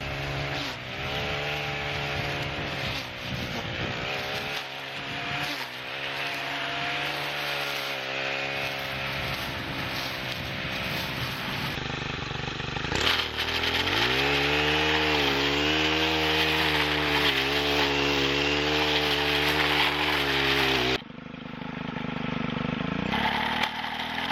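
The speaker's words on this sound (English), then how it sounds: "I'm gonna weed eat this hill here" A string trimmer fitted with a Tri Clone trimmer head cuts grass on a hillside, its two-stroke engine whining steadily at close range with revs rising and dipping as it bites into the growth.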